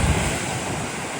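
Ocean waves breaking at Steamer Lane, a famous surf spot in Santa Cruz, heard from a viewing area above as a steady, broad wash of surf with wind noise across the microphone.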